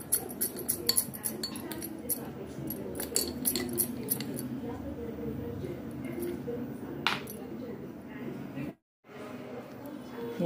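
Spoon stirring sugar into crush-syrup juice in a glass, rapid bright clinks of metal against glass, dense at first then thinning out, with a voice talking softly underneath and a brief silent gap near the end.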